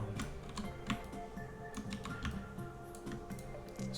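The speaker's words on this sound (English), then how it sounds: "I'm still on my first mechanical keyboard." Rapid typing on a mechanical keyboard, its keys clicking and clacking steadily and close up for the whole stretch, with no voices.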